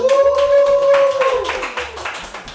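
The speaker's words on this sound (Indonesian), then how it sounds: "Tepuk tangan untuk Pak Adon." A small audience applauds a podcast guest with brisk, close clapping that sits over a sustained tonal hum and fades toward the end.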